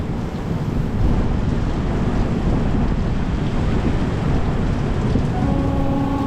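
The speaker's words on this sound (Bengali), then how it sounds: "দেখুন কি পরিমাণ বৃষ্টি" Heavy rain pouring down outside a moving express train between Nalbari and Kokrajhar, heard as a dense, loud, steady wash of noise that continues unbroken for several seconds, mixed with the rumble of the train.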